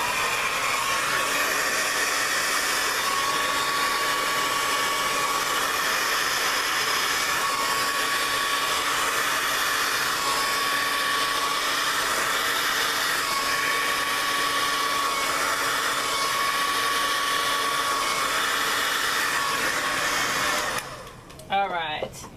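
A blower drives paint across a large beach-themed canvas, a loud, steady whirring roar that runs on for about twenty seconds before cutting off with a few clattering knocks.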